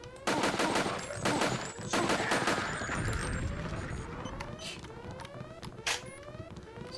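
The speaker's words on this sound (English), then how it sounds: "explosive ammunition is really, really loud" 12 gauge explosive burst shotgun ammunition being fired outdoors, with several loud, sharp blasts and echoing cracks in quick succession, while people talk around them.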